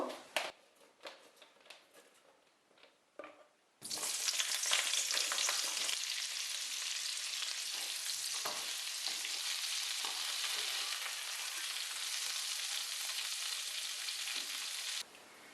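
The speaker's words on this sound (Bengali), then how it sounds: "সেম প্রসেসে আমি ফুলকপিও ভেজে নিব" After a few seconds of faint clatter, a loud burst of sizzling oil begins and holds steady as cauliflower pieces fry in a pan, no talking.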